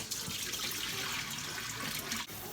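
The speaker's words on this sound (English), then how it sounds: "put this in a strainer, and you just want to give it just a quick little rinse" Hominy being rinsed in a strainer under a running tap for pozole, a steady close broadband rush of water hitting the grains and splashing in a sink, continuous for a couple of seconds before a brief dip.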